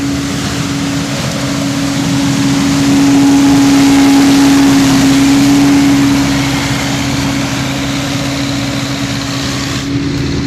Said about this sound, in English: It's called a sweeper or a windrower. It will take all the nuts and put them in the center of the row